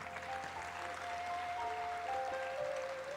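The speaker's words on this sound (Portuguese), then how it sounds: "Dá uma salva de palmas para o Papa." Audience applause for the Pope at a Catholic gathering, a steady, fairly distant wash of clapping with faint tonal hum and background noise running under it.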